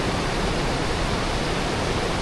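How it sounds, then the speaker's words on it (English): A waterfall in Croatia pours over a rocky edge, giving a steady, dense rushing roar with no breaks, close and fairly loud throughout. "So you can see the waterfall flowing just there."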